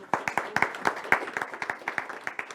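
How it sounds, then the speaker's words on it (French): Audience applause at a mayor's New Year ceremony in Bègles, a moderate, fairly sparse round of individual claps with audible gaps and no voices. "on peut les applaudir"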